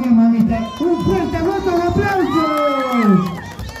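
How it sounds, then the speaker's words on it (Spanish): A crowd cheers and whoops in a loud, continuous wash of shouting voices, with no distinct clapping standing out. "Un fuerte voto de aplausos."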